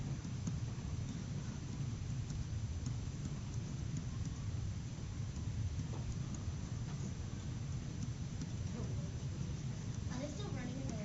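Rain with thunder outside a classroom, a steady soft wash of rainfall with low rumbling underneath, fairly faint and continuous, with distant voices of people talking.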